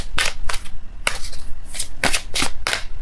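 A deck of tarot cards is shuffled close up in quick riffling bursts, about eight brisk swishes over a few seconds.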